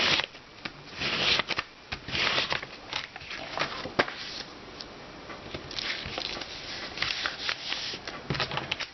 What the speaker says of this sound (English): get my bone folder and then bend it the other way